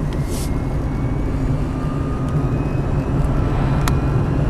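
A quiet Ampmobiles electric vehicle driving and shifting into second gear: a steady low road rumble with a faint whine and a couple of brief clicks, heard from inside with no talking.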